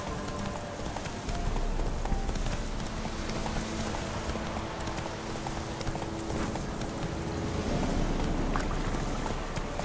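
A horse gallops in The Witcher 3: Wild Hunt, its hoofbeats a dense, rapid drumming buried in loud rushing wind and rumble that carries on without a break.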